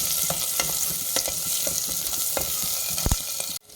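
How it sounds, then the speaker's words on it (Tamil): Chopped onions and garlic cloves sizzle in a hot pan for broccoli soup, a steady close fry broken by repeated scraping stirs before cutting off suddenly. "இப்போ இந்த அளவுக்கு வெங்காயம் வதங்கினா போதும்"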